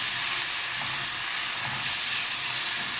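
Tuna dropped into a pan of sautéing onions, giving a loud, dense, continuous hiss of sizzling oil that holds evenly for the whole span, with no voices.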